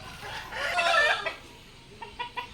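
A Naked Neck Brahma hen clucking nearby, a soft drawn-out call followed by three short clucks, fairly quiet.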